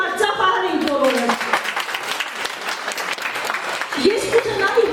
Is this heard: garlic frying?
no